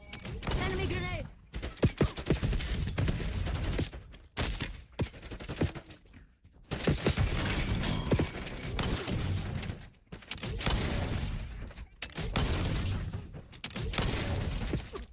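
Rapid bursts of automatic gunfire and explosions from a Call of Duty BO7 match, loud and dense, broken by brief pauses throughout.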